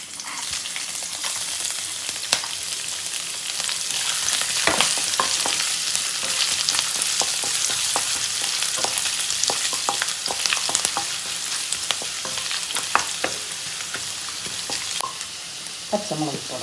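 Ginger, garlic and spices fry in a pan for chicken stew, a constant loud sizzle broken by frequent clicks and scrapes of stirring throughout.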